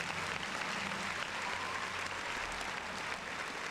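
Applause from a podcast audience, a dense steady wash of clapping at even loudness throughout, with no voices over it.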